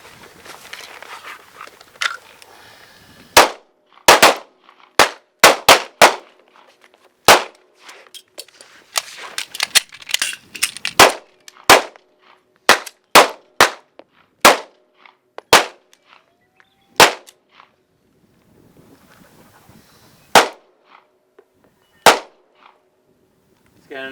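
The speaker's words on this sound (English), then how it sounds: "on the command of fire, we're going to fire 2 rounds. Step to the left, drop the magazine, reload the new magazine" Pistols fire sharp, loud shots at a defensive pistol shooting drill with magazine reloads, in irregular pairs and clusters from several shooters over about twenty seconds, with quieter clicks and handling noise between the bursts.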